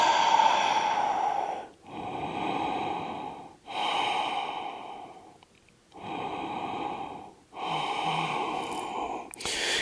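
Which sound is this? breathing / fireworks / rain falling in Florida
breathing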